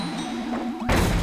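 A bomb drops onto an enemy's head in Kirby Star Allies: a sudden loud, crunching blast bursts in near the end, cutting off the light melodic game music that plays beforehand.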